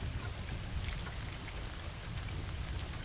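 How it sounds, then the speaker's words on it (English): Heavy rain pours steadily at night, a dense, unbroken hiss of drops with no voices. "It was a night of heavy rain"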